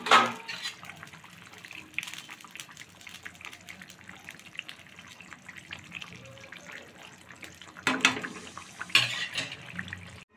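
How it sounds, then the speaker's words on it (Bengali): Fish pieces go into a pot of boiling water for a fish curry: steady bubbling and watery churn throughout, with louder splashes near the end. "জলটা ফোটা শুরু হয়ে গেছে, তো আমি মাছগুলো দিয়ে দিচ্ছি"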